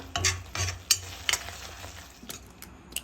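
Paste goes into a frying pan for egg junnu curry and is stirred, producing several close scraping strokes over a faint sizzle, then quieter scrapes as the stirring slows, with no talking.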